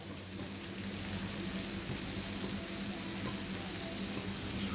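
Pumpkin stir-fry with curry leaves hisses and sizzles in a pan over a high flame, a faint, even, continuous frying crackle with no voices.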